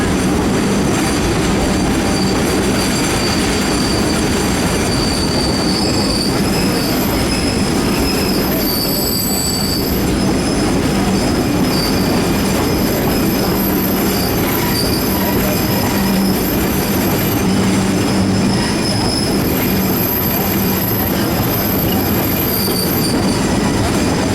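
The Durbin Rocket train rolls loud and close on its rails, with a continuous heavy rumble, wheel squeal and clatter that never lets up.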